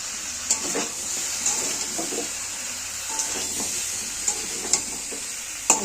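Tomatoes go into a sizzling pan while cooking a vegetarian cauliflower and potato curry with beans, giving a steady close frying hiss with scattered stirring clinks and small pops, no talking.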